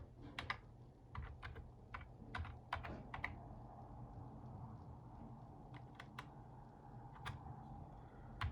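A command is typed on a computer keyboard, with irregular sharp key clicks in short bursts and pauses over a low steady hum, close and fairly quiet.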